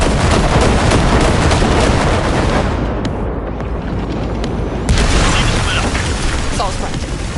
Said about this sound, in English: there's a monster gate that needs to be blown open